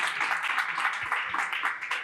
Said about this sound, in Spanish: Un aplauso para Joaquín Dopazo.